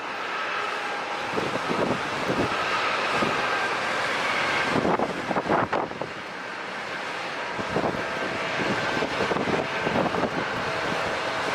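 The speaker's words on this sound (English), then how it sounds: "Look how quick he took off. Wow, not even a quarter down the runway." A departing airliner roars down a San Diego International runway, a broad, windy rumble swelling and easing at a distance, with occasional gusts buffeting the microphone.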